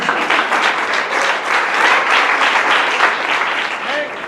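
A church congregation claps together in sustained, lively applause that stays loud and dense for several seconds, with a few voices calling out underneath.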